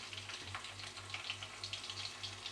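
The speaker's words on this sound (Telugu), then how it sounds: "అల్లం వెల్లుల్లి పేస్ట్ వేసి పచ్చి వాసన పోయే వరకు బాగా ఫ్రై చేసుకోవాలి" Ginger garlic paste fries with onions in a pan, a faint, steady sizzle with soft crackling pops close by, quiet throughout and free of talk.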